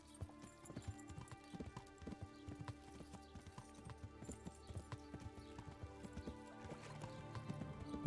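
Horse hooves clip-clopping in Kingdom Come: Deliverance, a steady rhythmic run of sharp hoof strikes on the ground, moderately near, repeating evenly for the whole stretch with faint background ambience.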